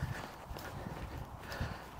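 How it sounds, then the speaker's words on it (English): Horses in an open, flat field near a village, with soft irregular hoof thuds and shuffling at a distance under steady wind noise. "There we go, there's the horses."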